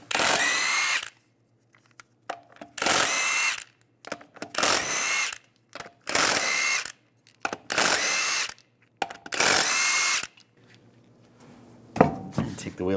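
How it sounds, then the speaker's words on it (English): An impact or power tool on a 22mm socket spins lug nuts off a 2007-2013 Chevy Silverado's front wheel, in six loud, roughly one-second bursts separated by short pauses, with faint clicks and handling noise between them. "Using a 22mm socket, take the lug nuts off."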